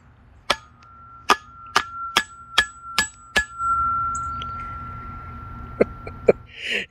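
A pickaxe strikes roots repeatedly with sharp metallic clangs, each leaving a bright ringing tone that hangs in the air, followed by a few more scattered hits.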